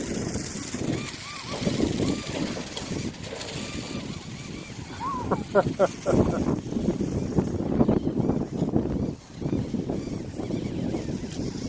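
Strong outdoor wind buffets the microphone in gusty, rumbling waves, loud and close throughout, with a faint high whine in the middle.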